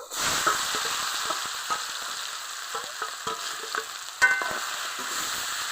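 Steady loud sizzle of country chicken frying in hot oil with bay leaf and onion, a continuous crackling hiss punctuated by scraping stirs and a sharper spatter near the end, with no voices.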